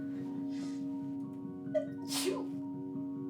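A single sharp sneeze bursts out close by, with a short breath and a small catch just before it, against a quiet humming background.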